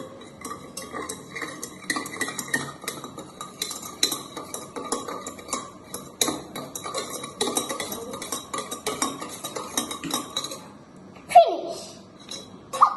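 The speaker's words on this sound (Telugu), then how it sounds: "Spoons of sugar. డన్. ఇప్పుడు మిక్సింగ్." A spoon stirs sugar into a summer drink, with rapid repeated clinks and scraping against the glass, close and continuous, ending in a sharper knock.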